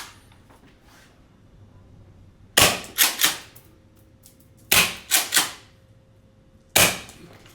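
A VFC Fabarm STF/12 gas blowback airsoft shotgun fires three times, each a sharp loud crack followed by quick mechanical clacks of the cycling action, with quiet pauses between shots.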